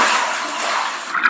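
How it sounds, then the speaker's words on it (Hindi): Cold, murky water in an underground cave siphon sloshes and rushes as a team lowers itself in, a dense, continuous wash of water noise with no voices. "ठंडे और गंदे पानी में उतर रही है।"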